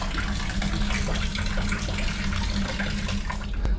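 Water pours steadily from the open end of a removed chilled water pipe during a ceiling leak repair, a constant close splashing rush with no break.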